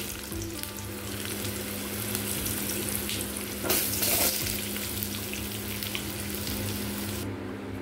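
Potatoes sizzle in hot oil in a wok after whole five-spice seasoning, a steady close crackling hiss with a brief louder burst of spitting midway, no voices.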